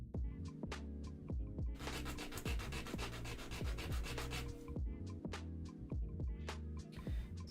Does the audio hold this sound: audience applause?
no